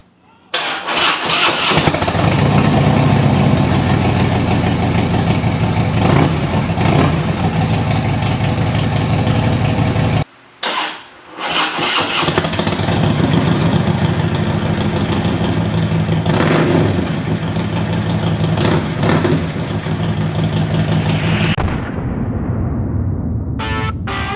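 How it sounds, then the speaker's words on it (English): Harley-Davidson Road King fitted with Cobra True Duals fishtail exhaust cold-starting, its loud, close engine settling into a steady rumbling idle with a brief cutout partway, then winding down at the end; no talking. "Cold start with the Cobra, True Duels, Fishtails,"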